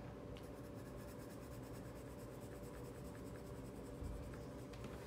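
Colored pencil drags across paper in an abstract mark-making art exercise, a close, quiet scratching that runs continuously with a few sharper strokes near the end.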